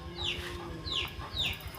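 Chickens cluck in repeated short calls, three distinct bursts at an even rhythm, fairly near, over a low background rumble.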